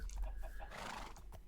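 A horse in Minecraft gives a short neigh and whinny, a faint bright call with a few snorting pulses, alone and quiet.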